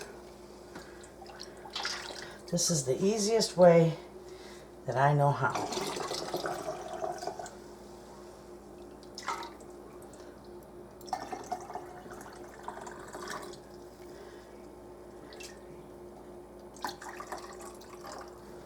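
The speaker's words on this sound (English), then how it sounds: "This broth is beautiful. I'll just pour it right in there." Homemade turkey stock poured from a pan into glass canning jars, with bursts of splashing, gurgling liquid near the start that then give way to quieter trickles and clinks while someone talks.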